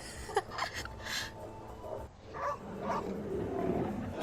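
A dog barks and yelps while fighting a bear, loud and close, in several rough bursts with whimpering and snarling sounds between them.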